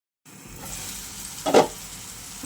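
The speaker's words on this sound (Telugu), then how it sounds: "అల్లం వెల్లి పేస్ట్ కూడా బాగా వేగింది" Ginger garlic paste fries in a pan with a close, steady sizzle, swelling into a brief louder hiss burst midway before settling back to a low crackle.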